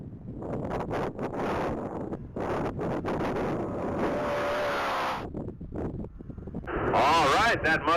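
2020 Ford Mustang GT500 racing at top speed in a standing-mile event, a roaring engine pass under heavy wind noise with a live commentator talking over it, then a rising whine toward the end.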